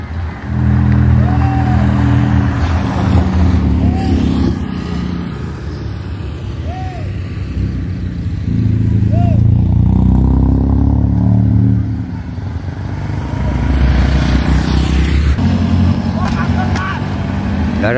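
Cars and motorcycles pass on a fog-covered mountain road between Lumajang and Malang in the late afternoon, a steady engine rumble swelling and fading as vehicles go by, with a few brief horn-like tones.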